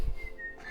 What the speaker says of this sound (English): Do you whistle while you work?